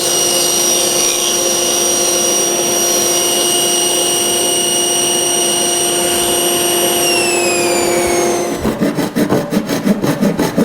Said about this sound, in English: I'm going to go over to the table saw and I'm going to make a cut most of the way down here